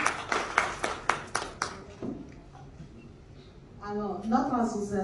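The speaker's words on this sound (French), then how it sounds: "Applaudissez pour Madame la Présidente." Audience applause at an association event for women leaders in Côte d'Ivoire: a short burst of sharp, rhythmic hand claps up front that thins out, followed by a voice speaking.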